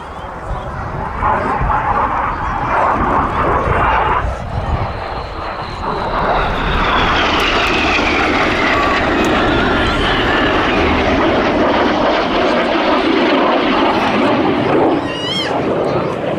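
RAF Red Arrows jets fly a display at the Midlands Air Festival, a loud, sustained jet roar that swells and sweeps across as the aircraft pass. A commentator speaks over it, and a dog barks briefly.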